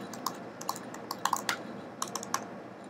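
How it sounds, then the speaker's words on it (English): Someone types a message on a computer keyboard, producing a string of light, close key clicks in irregular short bursts over a quiet background. "you click that, you can begin typing your message"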